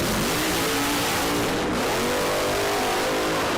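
Drag racing cars, including a Camaro, launch at The Strip at Las Vegas Motor Speedway during a street car event, producing a loud, sustained engine roar and revving with no voices heard.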